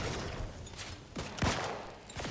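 Long-range gunfire in The Outer Worlds 2 video game: several faint, distant cracks in quick succession, with two sharper shots near the middle standing out over low background noise.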